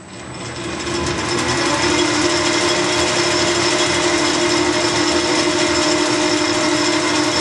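Machine cutting metal in a workshop, a loud, steady mechanical whir and grinding hum that builds up in the first second and then holds constant without a break.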